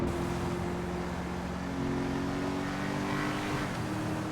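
A Cadillac V-Series-based Albany V-STR's V8 engine revs hard and steady in GTA 5 Online, a loud throaty roar with a raspy edge that shifts slightly in pitch, no voices.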